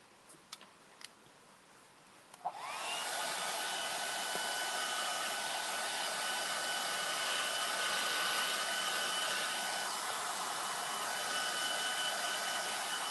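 A few light clicks and taps give way to a dryer switching on and blowing a loud, steady whoosh of air over a WoodCast moldable wood pulp appliqué, running continuously to the end.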